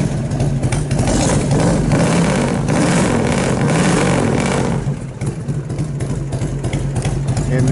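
Warm 1998 Harley-Davidson FLSTS Heritage Springer 95th anniversary motorcycle engine idles loud and close, a continuous rumbling throb that dips slightly once before steadying.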